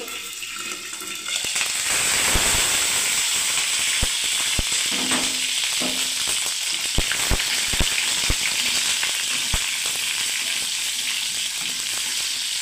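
Onions sizzling steadily in hot oil in a frying pan, a loud, close, continuous crackle with scattered pops and occasional stirring scrapes throughout.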